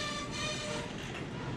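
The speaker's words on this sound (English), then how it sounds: "As the two SD40-2s continued to work the yard" Two SD40-2 diesel locomotives work a rail yard, giving a brief, steady rumble with faint tonal hums. The sound is moderately distant and carries no talk.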